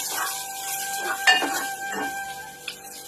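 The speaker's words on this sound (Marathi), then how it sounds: "एक स्पून जिरा पावडर आणि त्याला असं छान घीमध्ये मिक्स करायचं" Cumin powder being stirred into ghee in a pan for a Konkani dal brings a soft sizzle along with a few metallic scrapes and clinks of a spoon against the pan, close and fairly quiet.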